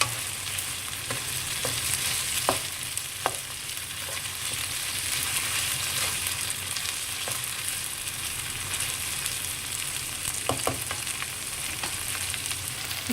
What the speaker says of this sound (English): Cook this till the tomatoes have all become soft and mushy.